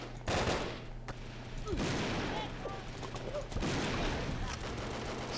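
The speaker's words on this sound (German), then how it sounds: "Ja, ich sniper hier gerade." Sniper rifle gunfire in Brickforce, a few sharp shots ringing out over constant game background noise, with faint chirpy effects between them.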